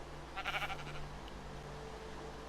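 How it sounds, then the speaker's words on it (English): A Minecraft sheep bleats once, short and mid-loud, over a steady background hum of game audio. "Sheep."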